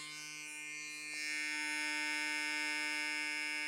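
A Stylecraft Instinct electric hair clipper runs close up, a steady buzzing hum that grows slightly louder after a moment.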